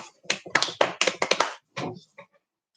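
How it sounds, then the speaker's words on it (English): A brief round of applause for the winner of a quarantine quiz: a handful of close, quick claps in uneven bursts lasting under two seconds, then a few scattered final taps fading out. "you get a round of applause"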